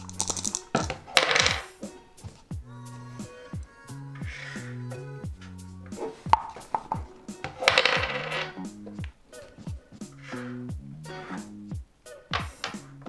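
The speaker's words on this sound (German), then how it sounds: "Der erste Spieler hat jetzt 3-mal gewürfelt" Dice for the dice game Chicago rattle in a cup and clatter onto a table in repeated bursts of sharp clicks and knocks, close and fairly loud, with no talking.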